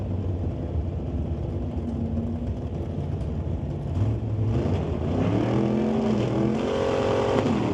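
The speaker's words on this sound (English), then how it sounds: "Dan Gray out of Maple Ridge driving that big pickup, the Ford F-250" A big Ford F-250 pickup truck launches in a drag race, its engine roaring steadily and loudly, then climbing in pitch through several rising revs as it pulls away down the strip, with no talk over it.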